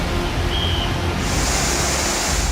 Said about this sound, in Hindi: खोलते पानी का ये शोर कुल्लू के लोगों के लिए किसी डरावने सपने जैसा है।